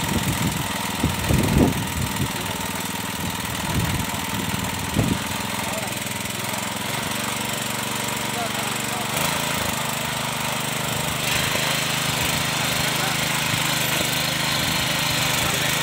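A 7 hp power weeder with a 2-foot rotary tiller runs in a cotton field. A few knocking thumps near the start give way to a loud, steady engine drone that continues throughout.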